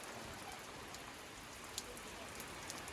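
Light rain patters on surfaces outdoors at a farm home, a soft steady wash with a few sharper drips standing out, faint and distant with no speech.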